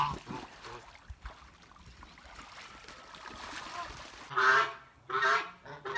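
Kholmogory geese give two or three loud, nasal honks close by toward the end, with quieter outdoor noise and a voice earlier.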